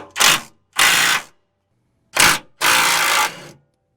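A hand ratchet working a 19mm control arm bolt on a 4th-gen Toyota 4Runner, four close, loud bursts of rapid clicking, two short and two longer, separated by silence.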